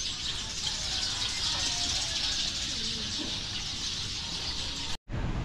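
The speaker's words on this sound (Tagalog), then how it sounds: "Ang daming ibon sa taas." Dense high chirping from many birds fills the air continuously, with faint background noise beneath and a brief cutout near the end.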